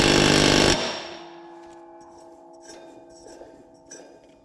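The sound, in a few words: impact wrench tightening mower blade spindle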